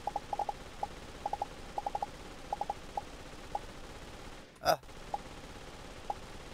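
Rapid bursts of small, clipped gunshots in the aim-training game Aim Lab crackle in irregular clusters, with a breathy sigh partway through; the shots sound thin and game-like rather than booming.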